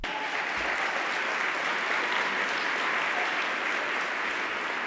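Steady, dense applause from an audience fills the whole stretch at an even, loud level, with no voices standing out above it.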